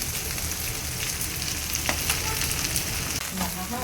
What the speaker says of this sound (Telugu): ఇలా గోంగూరని నూనె వేసుకొని బాగా వేయించుకోవాలన్నమాట